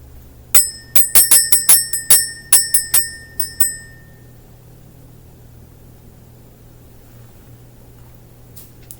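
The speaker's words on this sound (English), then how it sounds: "Let's ring the bell. Let's go ahead and clear out this energy" A bell rung to clear energy, struck in a quick series of about a dozen bright, ringing strikes over roughly three seconds, each chime decaying into a quiet hum before the room falls still.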